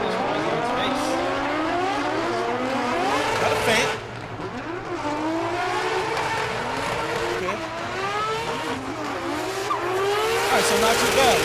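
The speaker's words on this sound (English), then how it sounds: "Spinning the tires." Race car spinning its tires at a track during an autofest round, with smoke, giving sustained squealing and skidding over engine noise for most of the stretch, with a short dip near four seconds; people talk over it.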